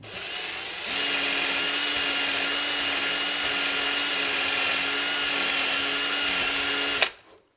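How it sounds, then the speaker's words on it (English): A power drill bores holes into a wooden guitar body for a humbucker pickup, a loud, steady high-pitched whine that holds for about six seconds close by, then cuts off abruptly. "Usually I put a hand down or something down to make sure I'm not drilling out the top of the guitar body."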